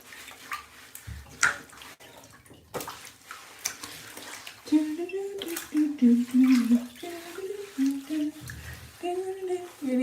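Water runs into a bathtub with a continuous splashing rush, while a child and an adult talk over it and the voices sometimes rise above the flow.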